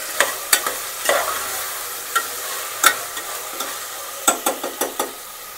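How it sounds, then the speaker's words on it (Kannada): Vegetables for pulao frying in oil while being stirred in a pan: a soft sizzle under a series of close, sharp spatula scrapes and clanks in irregular bursts, with no talking. "ಇವಾಗ ಸ್ವಲ್ಪ ಎಲ್ಲ ಮಿಕ್ಸ್ ಮಾಡೋಣ. ಎಣ್ಣೆಯಲ್ಲಿ ಸ್ವಲ್ಪ ಎಲ್ಲ ಫ್ರೈ ಆಗಲಿ."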